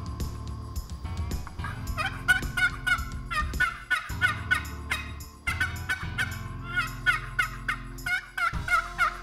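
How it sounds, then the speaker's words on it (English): Close, scratchy yelps and gobbles from a locally made turkey call, played without chalk after its screw is tightened a quarter turn, in rapid repeated bursts with brief gaps, and no speech is heard. "Another 1/4 turn of the screw."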